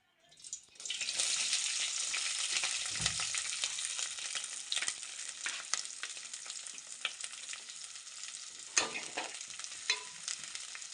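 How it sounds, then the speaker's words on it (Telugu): Onions and green chillies sizzle steadily in hot oil for a chicken skin curry, a loud continuous hiss starting after a second with occasional stirring scrapes and clinks, no voices. "ఇవి కాసేపు వేగించుకోవాలి."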